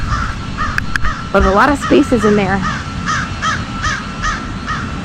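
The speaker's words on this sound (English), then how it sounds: "There are crows over there just yapping away." Crows caw repeatedly in a quiet cemetery with marble headstones in Carrollwood, Tampa, giving short rhythmic calls at a moderate distance, while someone talks over the first half.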